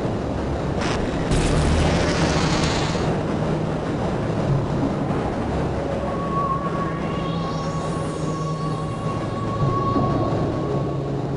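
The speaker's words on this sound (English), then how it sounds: "Do not attempt to open the doors until the train has come to a complete halt at the station platform" Tram train pulling into a station platform in Half-Life: Opposing Force, a steady rumbling roll of wheels on rails with clanks and a rising metallic whine near the end, continuous and fairly close.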